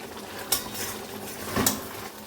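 Meat being stir-fried in a pan with potatoes and squash: a constant sizzle carries on, and a spoon scrapes or clanks against the pan twice at close range.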